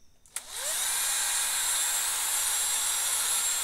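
A cordless screwdriver motor powered from a bench power supply switches on after a quiet start and runs unloaded at a steady high-pitched whine, close and constant with no talking.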